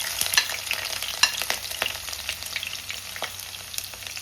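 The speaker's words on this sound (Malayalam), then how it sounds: "പിന്നെ ഇഞ്ചി ഇട്ട് കൊടുക്കാം" Ginger pieces frying in coconut oil, with green chillies and mustard seeds in the pan for a fish curry: a steady close sizzle with scattered pops and crackles and brief stirring scrapes.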